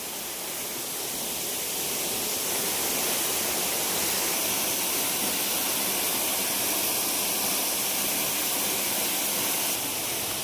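Benarai waterfall on Karinga Hill, heard as a loud, steady broadband roar of rushing water. It stays close and unbroken throughout, with no voices.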